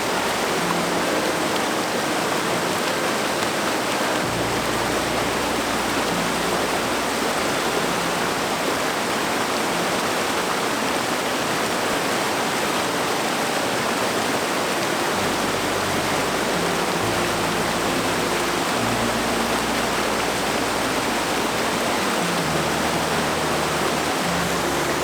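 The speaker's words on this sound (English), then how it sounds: "we have to go down to Bright Angel Creek to get our water." Bright Angel Creek rushes through the Grand Canyon in a loud, steady wash of flowing water, heard close up and unbroken, with no voices.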